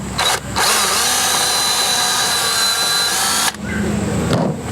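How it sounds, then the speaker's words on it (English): A power drill whines loudly and steadily for about three seconds as it bores a hole through a dried gourd, with brief motor bursts before and after. "I'll drill a hole through there."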